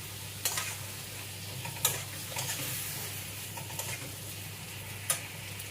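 Hilsa fish head mixture fries in a pan with a soft steady sizzle while a spoon stirs it, giving a few sharp scraping clicks against the metal at intervals; nobody speaks.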